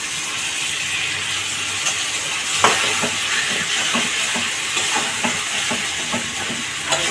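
Pointed gourd (potol) pieces sizzle in a pan for a gondhoraj potol curry, a steady broadband fry hiss with scattered light clicks and scraping stir sounds throughout, fairly close and with no voices.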